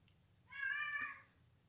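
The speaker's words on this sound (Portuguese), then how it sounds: "meu gato tá miando" A single drawn-out cat meow, moderately close and fairly soft, rings out alone against a quiet room background for under a second.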